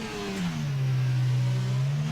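A Formula 1 car engine revs up into a steady, rising drone held for about two seconds at the start of the French Grand Prix in F1 22.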